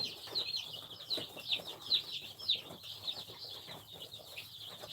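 Young Rhode Island Red chicks cheeping and clucking in a farm brooder, a run of repeated high chirps at a fairly even pace, close and moderately loud over a soft background.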